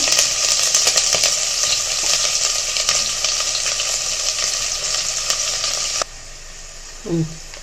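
Onion and tomato sautéing in a pan give a loud, continuous sizzle with crackling spikes, cutting off abruptly near the end, followed by a short soft clatter.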